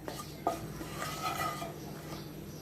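Cinnamon sticks, bay leaves and a dried chili stirred in hot oil in a pan while cooking gourd with Gobindobhog rice, with soft scraping and light clinks of a spoon against the pan, fairly quiet throughout.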